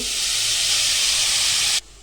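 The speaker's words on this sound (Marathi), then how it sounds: "आता आपण किसून घेतलेला आवळा आहे ना कढईमध्ये टाकून घेऊ" Grated amla (Indian gooseberry) hits a hot kadhai with a loud, steady hissing sizzle. It lasts almost two seconds, then cuts off abruptly to near quiet.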